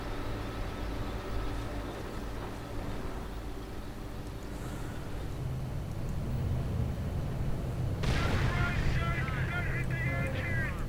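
A Teller mine blows up in a WWII strategy game, nearly wrecking an M10 tank destroyer. A sudden, loud, crackling blast erupts late in the clip and rings on over a steady rumble of engines and battle ambience.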